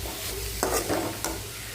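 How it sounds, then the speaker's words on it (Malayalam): Cabbage is stirred in a pan while cooking, a soft, close scraping and rustling over a steady low sizzle, with two brief louder stirring strokes. "അപ്പോൾ ഒന്ന് ഇളക്കി കൊടുക്കാം."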